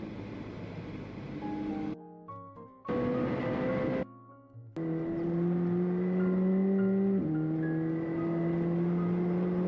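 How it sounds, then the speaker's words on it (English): A McLaren drives fast on a derestricted stretch of the German Autobahn. Its engine note rises steadily through the gears with sharp cuts between shifts, loud and close, and no one speaks over it. "McLaren on the Autobahn"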